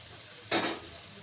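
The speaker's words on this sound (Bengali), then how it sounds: "রেখেছিলাম এই ভাজা আলুগুলো আমি এটাতে দিয়ে দিচ্ছি" Fried potatoes tipped into a hot pan of spiced curry base, giving one brief, close burst of sizzling and clatter that quickly dies away into quiet kitchen background.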